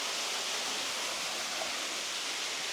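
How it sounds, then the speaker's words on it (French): Waterfall cascade behind a temple on Miyajima, a dense, steady rushing hiss of falling water, close and constant with no talk. "Cascade."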